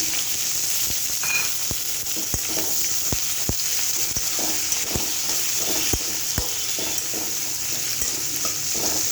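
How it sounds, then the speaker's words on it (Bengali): Sliced onions frying in a pan, a steady loud sizzle with regular sharp taps of a spatula stirring against the pan roughly every half second. "পেঁয়াজটা দিয়ে ভাজা ভাজা করবো"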